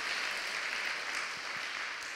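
Faint, distant audience applause follows a university president's address at a Korean gathering, a soft, even patter of many hands that continues steadily without pause.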